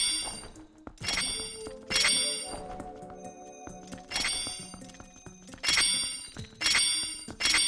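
A bell is struck repeatedly in a Zelda video game, each hit a bright metallic clang with a ringing tail, arriving in irregular bursts of two or three strikes amid softer game sounds.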